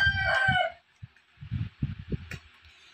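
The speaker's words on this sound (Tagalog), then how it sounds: "Chickens, my baby chickens!" Young chickens: a loud, drawn-out crowing call opens, then a run of short, close clucks and squawks follows in an uneven rhythm.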